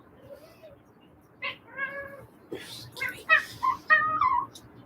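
A cat meows several times at close range in bright, rising and falling calls, some drawn out and whiny, scattered across a few seconds with quiet gaps between.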